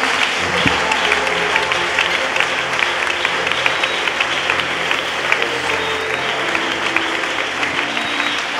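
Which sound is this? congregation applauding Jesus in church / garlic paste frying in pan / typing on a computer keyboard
congregation applauding Jesus in church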